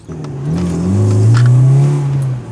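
A car with a swapped engine revs up hard and close, its tone climbing and holding in one steady, loud pull. No one speaks over it.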